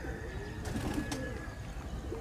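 Indian high-flyer pigeons cooing softly outdoors, a few low murmuring coos over steady wind-like background noise, with faint whistling tones overhead.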